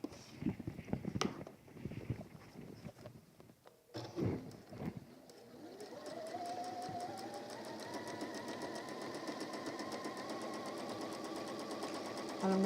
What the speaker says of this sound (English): I'm going to sew all the way around, apart from the top